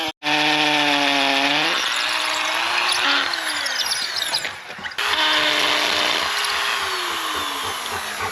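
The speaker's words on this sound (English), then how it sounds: "I thought I was going to show you how easy it was to drill in the concrete" Power drill boring into concrete while installing a cattle scale, hitting rock at the first spot; a loud, steady high whine runs almost without a break, with a short pitch drop partway through, and no voices.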